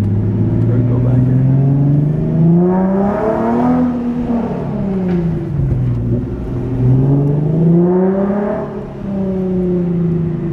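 A modified Nissan 370Z engine revs up and down in slow, swelling waves, loud and close, with a throaty rising and falling exhaust tone.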